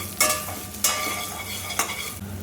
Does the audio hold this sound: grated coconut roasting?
yes